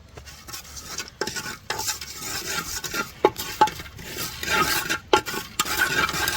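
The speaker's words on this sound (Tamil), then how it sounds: "இப்போ கொழுப்பில் தான் நாங்கள் வதக்க போகிறோம் வெங்காயங்கள்" Onions fry in mutton fat in a pan, sizzling steadily while a metal spoon stirs and scrapes against the pan in repeated clanks and knocks.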